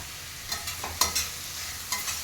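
Onion and chili paste frying in a pan, a close sizzling hiss broken by several quick scraping stirs, with no voices present.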